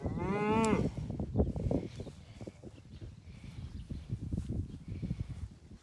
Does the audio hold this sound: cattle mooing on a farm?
yes